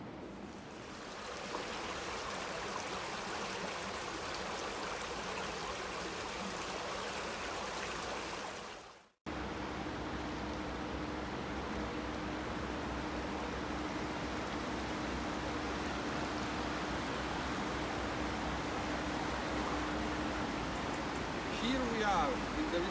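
A low-flowing river runs over its riverbed, a steady, even wash of water that continues throughout, cut by a brief break partway through before resuming at the same level.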